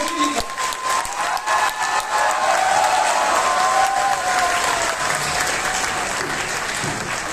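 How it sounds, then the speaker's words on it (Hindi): A full auditorium audience claps loudly and steadily to welcome a comedy star on stage, a dense sustained applause with some crowd noise and no speech. "पूरा ऑडिटोरियम हमारे स्टार का एक बार हाथ उठा करके तालियां बजाकर स्वागत करिए"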